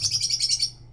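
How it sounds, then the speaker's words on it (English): Small birds chirping in quick, rapid twittering bursts for under a second, moderately close and clear, with no voices over them. "You guys can hear the birds, right?"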